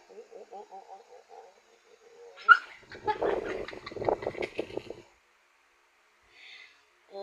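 A pet dog whimpers and yips affectionately up close, starting with short rhythmic whines, then a louder run of whimpering cries mixed with a person's voice, fading to brief soft whines near the end.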